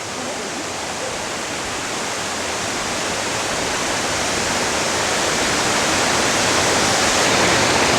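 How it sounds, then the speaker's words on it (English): A waterfall near Helen, Georgia pours in a steady, dense roar of rushing water, loud and continuous without a break, swelling slightly as it goes on. "So this gets you a really, really good view of the waterfall."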